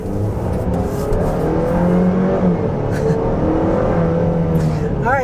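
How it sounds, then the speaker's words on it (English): A 2024 GMC Acadia's turbocharged engine accelerates with a steady, loud engine and road hum that rises gently in pitch, heard from inside the cabin with people talking over it. "Try another little acceleration here."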